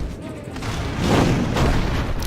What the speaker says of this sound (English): more cannon attacks